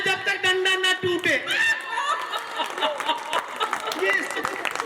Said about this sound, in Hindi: ये वही भाभियां ताली बजा रही है जो डंडा उठाती है